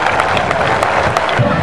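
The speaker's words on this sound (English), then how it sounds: "A big round of applause for inductee Tom Eckerman" A crowd applauds an inductee at an all-star football game ceremony: dense, steady clapping fills the space with scattered cheers and no pauses.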